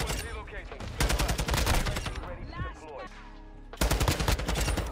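Rapid bursts of Call of Duty gunfire rattle loudly in dense automatic volleys, pausing briefly before another fast barrage erupts.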